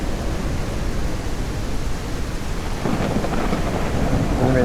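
Rain and a thunderstorm in the Ranch Simulator video game make a steady hiss of heavy rainfall under low, rolling thunder that swells slightly toward the end.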